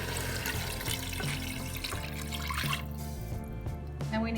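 Water pours steadily into a pressure cooker pot holding browned beef and its juices, a continuous close splashing stream with a faint background hum and no talk.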